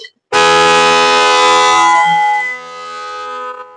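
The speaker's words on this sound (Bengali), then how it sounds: "এই দেখেন, আসলে হাইড্রোলিক হর্ন লাগানো আছে।" A hydraulic horn fitted to a Yamaha R15 V3 BS6 Dark Knight motorcycle gives one loud, sustained, harmonically rich blast lasting over three seconds, heard close and alone, easing slightly toward the end.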